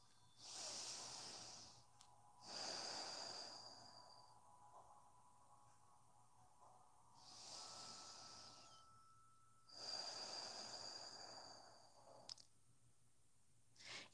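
Slow, deliberate breaths drawn in and pushed out through the nose during a yoga session, four long airy hisses spaced a few seconds apart, close and quiet in an otherwise silent room.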